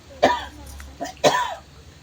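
A person coughs close by, with two sharp harsh bursts about a second apart and a fainter catch between them.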